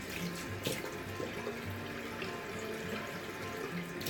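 A bathroom tap runs warm water in a steady, moderately quiet stream, with small splashing changes as hands or a face are wet under it, and no talk over it.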